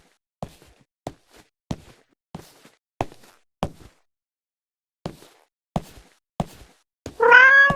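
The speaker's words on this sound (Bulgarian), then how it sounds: "Ето е котката." A cat in the horror video game CLINK meows near the end after a run of evenly spaced soft thuds, like footsteps. The meow is short and clear, and no one talks.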